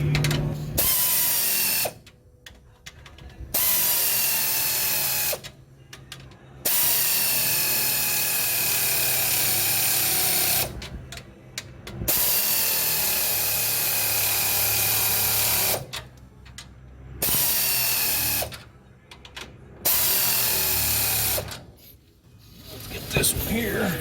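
A ratchet tightens exhaust bolts on a 1974 Dodge D100 pickup, rapid rasping clicks running in long bursts separated by several short pauses, close and fairly loud.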